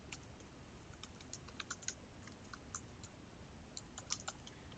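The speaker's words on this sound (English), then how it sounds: "You're going to go ahead and type in your URL" Fingers type on a computer keyboard, a string of light, irregular key clicks with a few sharper taps, fairly close and alone over a soft background hiss.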